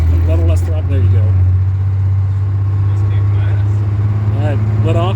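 An International dump truck with a DT466 diesel holds a loud, steady low drone as it revs under throttle, with people talking over the engine throughout.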